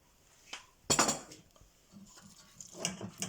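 Dried fish being stirred in a pot, a few close scraping and clattering knocks of a utensil against the pot, one sharp loud scrape followed by softer intermittent rattles.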